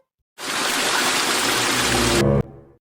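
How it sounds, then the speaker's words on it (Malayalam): Steady rushing of flowing stream water in a Malayalam animated family cartoon, a loud continuous wash lasting about two seconds before cutting off abruptly, with a brief softer tail. "ഇവിടെ നല്ല വെള്ളമുണ്ട് വേഗം വാ വാ നോക്കിയേ നല്ല ഒഴുക്കുള്ള വെള്ളം"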